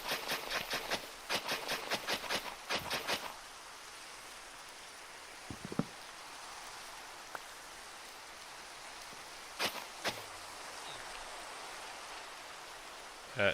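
Minecraft rain as a soft, steady hiss, broken early by a rapid series of sharp clicking bursts and later by a few scattered taps and knocks.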